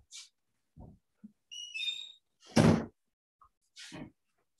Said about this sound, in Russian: что я открою дверь.